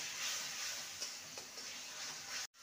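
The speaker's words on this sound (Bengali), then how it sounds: "ভালো করে সমস্ত মশলাকে কষিয়ে নেব।" Ground coriander and cumin being stir-fried in a pan give a soft, steady sizzle with faint scraping, constant and moderately quiet for a couple of seconds before cutting out abruptly.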